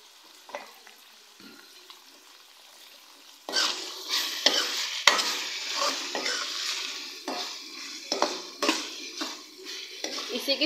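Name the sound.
minced meat (keema) frying and being stirred in a pan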